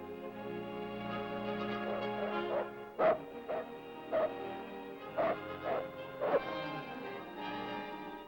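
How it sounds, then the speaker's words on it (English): Polar husky work dogs at a 1957 outpost bark and yip in a noisy pack chorus, with several sharp, loud barks standing out over a continuous din of yelping. "They take good care of their huskies, all right."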